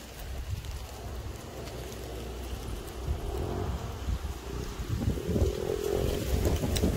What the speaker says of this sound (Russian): Ой, какой ураган у нас начинается.